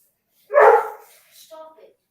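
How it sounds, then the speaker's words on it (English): A dog barks once, a single loud bark followed by a softer, shorter yip or whine, heard close by with no talking over it. "I heard the dog bark."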